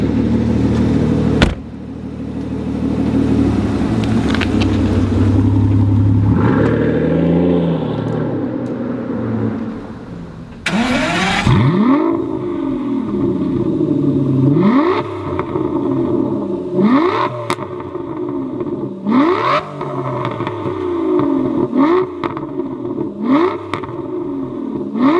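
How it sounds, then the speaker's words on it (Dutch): An Aston Martin Vanquish 6-litre V12 roars, then after a sharp bang revs repeatedly in rising and falling surges, loud and close with clear rhythmic pulls. "Want die 6 liter V12 motor klinkt echt."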